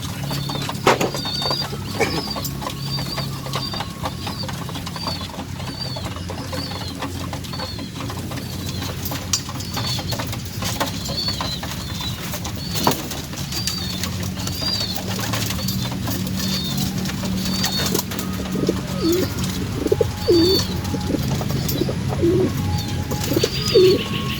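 Pigeons at a loft coo steadily in a soft repeating rhythm while wings flap now and then, with a constant rustling background throughout.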